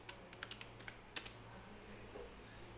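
Quiet keystrokes tapping out the ipconfig command on a computer keyboard, a short irregular burst of clicks over a steady low hum in a room, with no voices.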